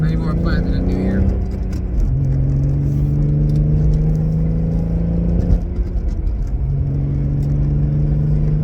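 A Volkswagen MK3 GTI with a VR6 engine on a drive, its engine droning steadily and shifting pitch through gear changes, with road rumble and a voice speaking over it.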